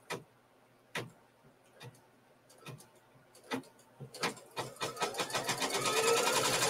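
A sewing machine stitching a quilt block, starting with a few separate needle punches that quicken into a steady, close, rapid run of stitches, loud and alone.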